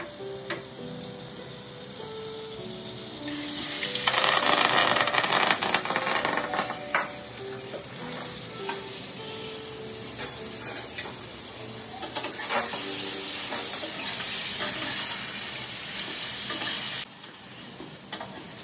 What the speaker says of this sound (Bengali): মাখন দিয়ে পনিরটাকে একটু নেড়ে দিচ্ছি